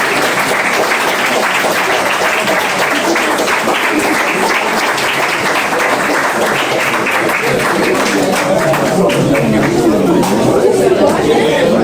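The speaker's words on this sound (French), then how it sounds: "je pense qu'on peut les applaudir" Guests at a civil wedding applaud the couple, sustained dense clapping from a nearby crowd mixed with cheerful chatter and voices throughout.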